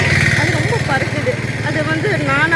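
A motorcycle ridden along a dusty road near Minjur, its engine droning steadily beneath continuous close speech from the rider.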